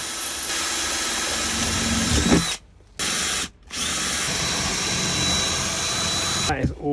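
Power drill boring holes through a Land Rover Defender body panel, a loud sustained whine broken by two short pauses, then a brief stop and restart near the end.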